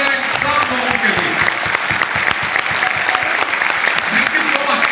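A large indoor audience claps loudly and steadily in sustained, dense applause that lasts the whole stretch without letting up.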